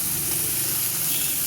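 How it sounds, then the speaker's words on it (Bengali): Fish sizzles as it fries in a little oil in the pan, a steady close hiss of spitting oil that stays loud and unbroken for the short moment, with no talk. "এই মাছটা ঝি মাছ করে অল্প তেল দিয়ে ভাজতে হয়"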